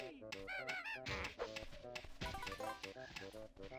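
A bird in the video game Banjo-Kazooie gives repeated squeaky, honking squawks in quick bursts, mixed with game sounds and music.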